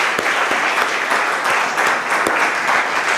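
A church congregation breaks into steady, dense applause, many hands clapping together in a continuous wash of sound that holds level throughout, with no voices rising above it.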